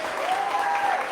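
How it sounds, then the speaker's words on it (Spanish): Members of a church congregation clap their hands together in a dense, sustained burst of applause, steady and fairly loud throughout with no pauses. "Una ofrenda de palmas al Señor. Fuerte, hermano, fuerte,"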